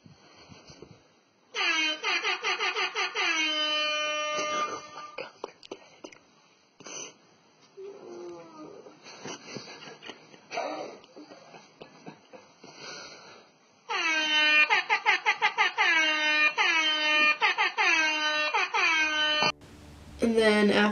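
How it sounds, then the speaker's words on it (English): Loud repeated blaring horn-like alarm blasts in two long bursts, with a quieter stretch of voices and noise in between. "they played crazy alarm, like the air horn sound effects to wake us up"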